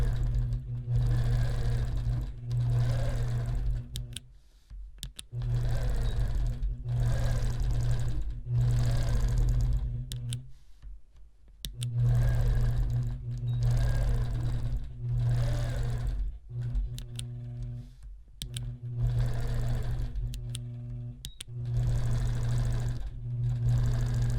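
Sewing machine quilting a simple chevron design along a hexagon ruler, running in long steady humming bursts separated by short pauses, close and even in tone.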